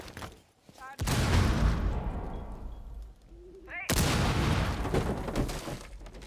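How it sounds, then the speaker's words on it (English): A frag grenade is tossed and detonates in a Rainbow Six Siege professional league match, bringing loud, heavy blasts over ongoing game noise, with a caster's voice at times. "Tossing a frag."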